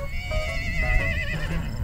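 A horse at a campsite neighs nearby, one long wavering whinny that rises and falls for nearly two seconds over a low rumble of wind and background noise.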